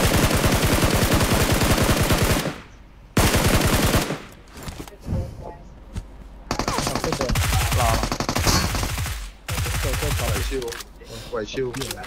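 AK rifle fire in a shooter video game, arriving as rapid automatic bursts separated by short pauses, loud and close, with a voice talking over parts of it.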